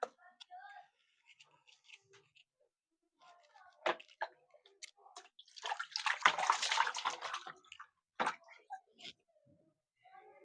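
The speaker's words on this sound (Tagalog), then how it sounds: "Hinugasan ko lang yung kamatis." Tomatoes are rinsed under running water while cooking chicken steak and ampalaya gisado, giving a brief close splashing burst among scattered small clatters, with quiet talk now and then.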